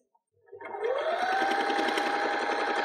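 A sewing machine runs alone, stitching around the front curve of a cloth face mask: after a brief quiet start it whirs up and holds a steady, close motor hum with a rapid needle rhythm.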